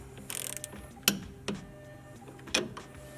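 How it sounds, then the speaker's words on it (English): A ratchet torques down the end link nut on a 2014-18 GM Silverado or Sierra truck with a quick run of light clicks followed by three sharp, separate clicks, close and clear with no talking. "And torque it down to spec."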